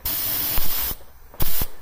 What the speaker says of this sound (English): We're using the Grex center top, whatever, gravity feed spray gun setup